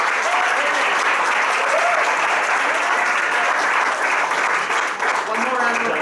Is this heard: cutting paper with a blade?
no